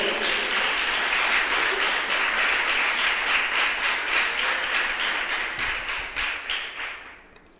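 At a Portuguese-language fasting and prayer service, a congregation bursts into full applause, a thick crowd of clapping hands that turns into more distinct rhythmic claps before fading out.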